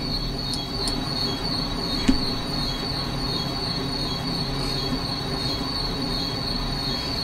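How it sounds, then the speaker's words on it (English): A Long Island Rail Road M7 commuter train in the Train Sim Classic game brakes hard, its wheels giving a sustained high metallic squeal over a constant rumbling rail noise, with a couple of faint clicks. "That operator's killing the brakes on that thing"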